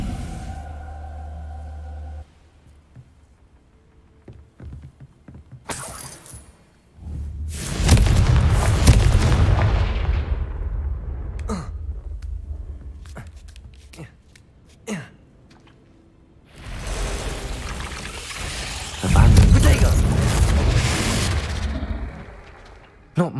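Confringo blasting spells in Hogwarts Legacy set off two heavy, rumbling explosions several seconds apart, each swelling loudly and then fading, with quieter game sounds and a voice between them.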